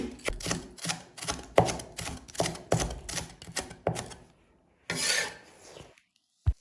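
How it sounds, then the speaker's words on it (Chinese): A knife slices a green pepper into thin strips on a cutting board, giving a rapid run of close, crisp chopping strokes, then a short pause and one brief scraping sweep with a final tap. "去蒂去籽后，我们呢把青椒给它切成丝。"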